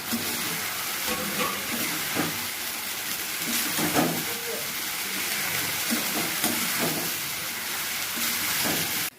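Potatoes for chilli potato fry in a pan with a steady, loud sizzling hiss throughout. Occasional soft scraping and stirring clatters rise above the constant frying noise.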